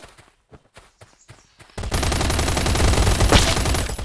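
Gunfire in the survival shooter Last Island of Survival: a few soft footstep-like taps, then a loud, dense stream of rapid automatic shots running without a break to the end.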